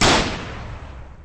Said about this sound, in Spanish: Solo escuchamos un fuerte disparo que acertó al cuerpo de esta criatura.